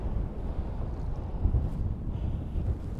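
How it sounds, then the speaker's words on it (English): Wind buffeting a small boat while fishing for mackerel, a steady low rumble of gusting air against the microphone with no clear voices. "this wind just keeps wanting to turn me round"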